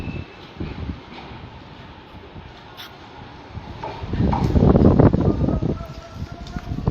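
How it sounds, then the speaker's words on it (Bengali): Saikat Express train pulling out of Cox's Bazar railway station, a rumbling, swelling roar that builds loudest near the end, with clattering wheels and crowd noise at the station. "অনেক গতিতে ছেড়ে যাচ্ছে কক্সবাজার আইকনিক রেল স্টেশন থেকে যে চট্টগ্রাম অভিমুখী"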